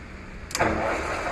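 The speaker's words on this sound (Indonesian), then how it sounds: "Jadi cara gini, tinggal hidupkan aja mesin ya" A used lathe machine switched on: a short click followed by a motor spinning up into a steady mid-pitched hum, close and moderately loud.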